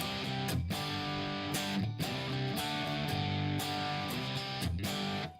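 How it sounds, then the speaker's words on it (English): A distorted guitar plays through an amp turned to a low master volume, giving a dirty, crunchy tone. Chords ring fairly continuously, with a few rhythmic dips. The sound is quiet and close, with no talking. "So I got a dirty sound like this."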